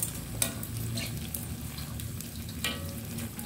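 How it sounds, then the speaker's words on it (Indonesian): Coarsely pounded spice paste sizzles steadily in hot oil for stir-fried bitter gourd, a close, even frying hiss with a few sharper stirring scrapes and clacks. "Masukin bumbunya teman-teman ya, yang udah diulek kasar buat tumis pare"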